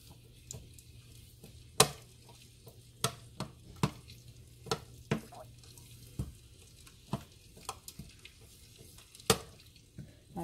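Garlic going into about a cup and a half of oil for a red chicken pozole salsa, with a low steady sizzle under frequent sharp clinks and taps of a utensil stirring in the pan, close and fairly quiet.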